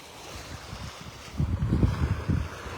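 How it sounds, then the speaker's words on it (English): Wind gusts across the microphone on Delnor-Wiggins beach in North Naples, Florida, producing low rumbling buffets that swell louder in the second half over a steady surf-like hiss, with no voices. "If you can put up with that little bit of wind noise now and then."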